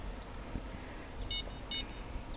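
In the fishing game Fishing Planet, a bite alarm on a bottom-fishing rod at a lake gives two short, quiet electronic beeps a moment apart over faint ambient background noise.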